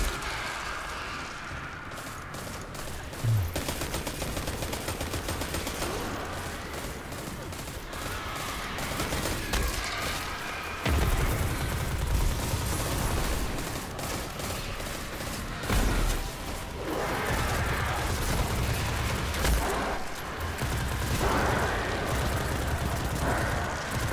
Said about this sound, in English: Oh man, these fusion rifles.